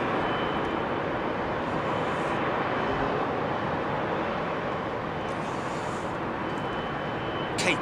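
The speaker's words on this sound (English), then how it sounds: "Kenya Airways off to Nairobi." Kenya Airways airliner on departure from Heathrow bound for Nairobi, a steady broad jet roar holding level throughout, fairly distant and unbroken, with no voices.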